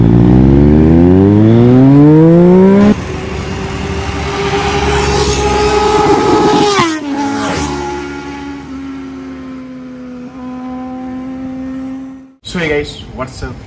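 A motorcycle revs hard and then flies past close by on a road, its rising engine whine dropping in pitch as it passes. A steady, fading drone follows, and a sudden loud burst of engine noise comes at the end.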